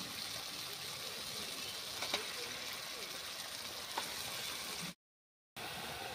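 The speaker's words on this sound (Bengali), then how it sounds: "দেখুন মশলা থেকে কত সুন্দর তেল ছেড়ে গেছে। ওর মধ্যে দিয়ে দিচ্ছি ধুয়ে রাখা মাংস" Washed chicken pieces go into hot spiced oil, giving a soft continuous sizzle with a couple of faint clinks, cut by a brief silent gap near the end.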